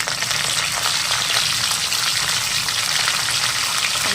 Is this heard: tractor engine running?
no